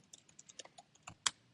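Light, uneven keystrokes on a computer keyboard as a prompt is typed, about a dozen quiet taps with one sharper clack near the end, heard alone in a quiet room.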